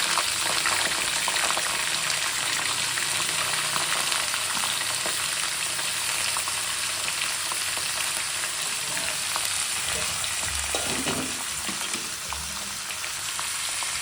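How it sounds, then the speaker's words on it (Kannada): Eggplant frying in oil for vangibath: a steady, dense sizzle with bubbling and crackling that runs the whole time, close and loud, with occasional stirring scrapes toward the end. "ಇದು ಎಣ್ಣೆಲೆ ಫ್ರೈ ಆಗಬೇಕು ಬದನೆಕಾಯಿ."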